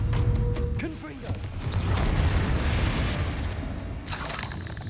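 Explosive Confringo spell blasts in the Hogwarts Legacy game go off as booming, crashing bursts amid dense, continuous game effects and ambience, loud throughout.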